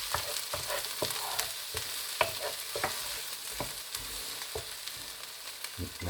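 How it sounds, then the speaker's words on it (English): Onions fry for shakshuka in a pan over turned-down heat. A steady close sizzle runs throughout, with the sharp scrape of a utensil stirring them at irregular intervals. "That will help the onions just to sweat out now, turning a lovely brown."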